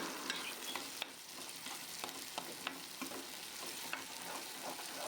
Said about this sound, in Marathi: त्याला सुद्धा तेलामध्ये फ्राय होऊ द्या, चांगलं शिजू द्या, शिजून सॉफ्ट होऊ द्या